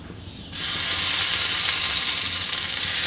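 Chili and garlic paste hits hot oil with cumin already in the pan, bursting into a loud, sudden, steady hiss of frying after a quieter moment, continuing close and unbroken.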